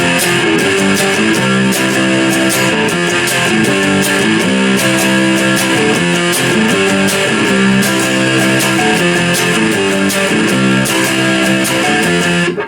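Loud, dense distorted electric guitar strums punk chords in a steady driving rhythm of repeated down-up strokes, alone and continuous throughout.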